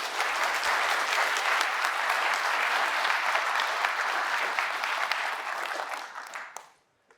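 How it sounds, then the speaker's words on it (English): A full audience gives a strong, continuous round of applause at a conference closing keynote, dense clapping holding steady for several seconds before tapering off quickly into near silence at the end. "So we will do a round of applause for Adobe and Akuva."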